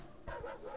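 A dog in the video game Last Stop: Station 66 lets out a single short, faint bark heard alone.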